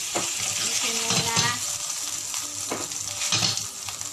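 Porkchops frying in a pan, a steady close sizzle with stirring and scraping throughout, occasional utensil clinks against the pan, no talk.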